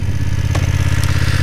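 A BMW F 900 R roadster motorcycle engine running steadily after starting, a loud, close, even low rumble with a brief clatter in the middle.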